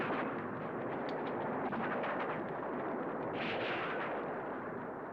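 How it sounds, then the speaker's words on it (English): A World War I artillery bombardment at Verdun in 1916 rumbles as a dense, continuous roar of distant gunfire, steady and muffled with no single shots standing out. "The attack started at dawn on February the 21st, 1916, with the most intensive bombardment of the war."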